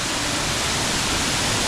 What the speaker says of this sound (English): But this is the Glen Ellis Falls